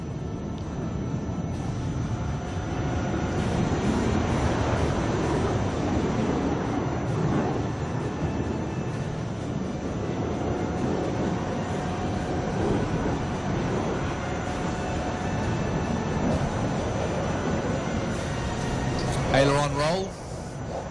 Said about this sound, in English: Now we see the aircraft just punch through the sky.